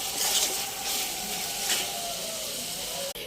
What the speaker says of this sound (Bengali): মেটেগুলোকে এখানে কষানো হচ্ছে।